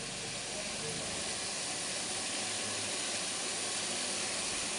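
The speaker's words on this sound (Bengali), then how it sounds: "এবার আদা রসুনের পেস্টটা ভালো করে কষিয়ে নিই" Ginger garlic paste fries in a pan for egg curry, a steady close sizzle and hiss that stays constant throughout.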